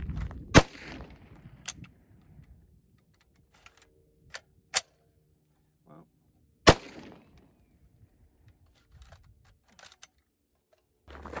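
A 6.5 Grendel bullpup rifle build fitted with a heavier recoil spring gives sharp, close reports and metallic clacks. They come spaced several seconds apart, with faint handling clicks and quiet gaps in between.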